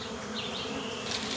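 Bees swarming at a hive inside a tree trunk on a remote island, smoked out through a small opening, producing a loud, steady, close buzzing drone with no talking.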